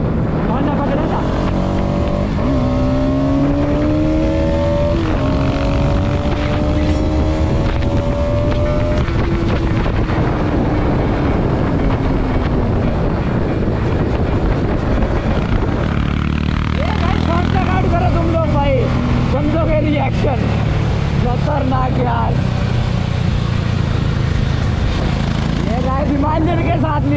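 Apache RR 310 motorcycles ridden at full power give a rising, whining engine note buried in heavy wind buffeting, with voices talking over the ride.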